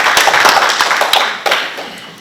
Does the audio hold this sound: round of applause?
yes